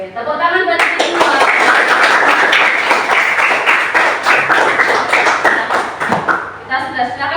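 Children clap together in a classroom, a busy run of sharp, uneven claps lasting about six seconds with voices mixed in, then tapering off as talk resumes.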